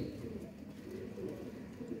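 Teddy pigeons cooing softly in a steady low murmur, a pair of fancy pigeons in a loft, faint and continuous with no voices.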